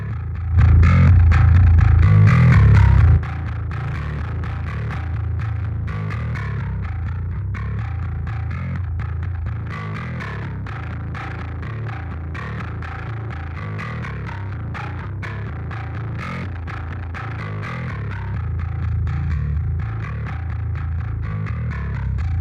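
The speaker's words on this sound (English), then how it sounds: "I really like the clip distortion." Heavily clipped, distorted bass guitar tone droning steadily, loudest in a brief burst at the start, then sustained with gritty, buzzing overdrive from clip distortion in a metal mix.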